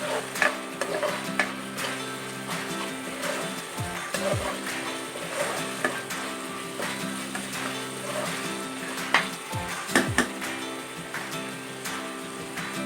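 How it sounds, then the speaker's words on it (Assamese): Chicken with moringa leaves stirred in a pan, a steady sizzle of oil running throughout with scattered scraping and clinking of the spoon against the pan, no one speaking. "আমি এইটো ভালকৈ এতিয়া মিক্স কৰি আছোঁ আৰু লৰাই আছোঁ"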